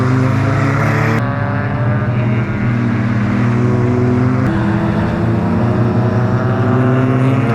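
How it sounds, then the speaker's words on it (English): Race cars, including an Audi TT MK1, at Brands Hatch Indy circuit roar loudly through a corner, engine notes shifting as they change gear and accelerate away, sustained and close. "the cars swung around the corner and headed off down to complete another lap"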